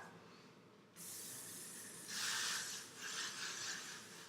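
Hairspray can hisses in several bursts, a long steady one followed by two louder spurts, close and alone.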